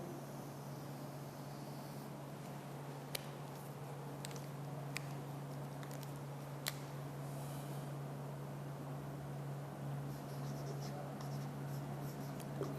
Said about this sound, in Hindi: अब बोथ क्वेश्चंस लिखते हैं हम।